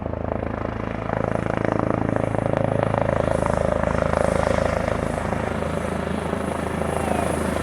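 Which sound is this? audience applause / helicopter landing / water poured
helicopter landing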